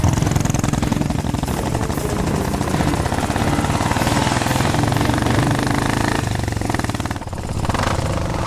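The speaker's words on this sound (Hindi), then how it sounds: "जल्दी जल्दी चालू कर बाइक।" A motorcycle engine runs with a loud, rapid, pulsing chug close by, holding a rough continuous throb with a brief dip near the end, in a dubbed action film scene.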